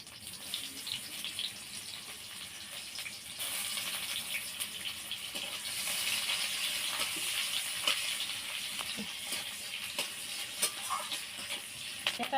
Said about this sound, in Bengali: এটা লাল লাল করে ভাজা হয়ে গেছে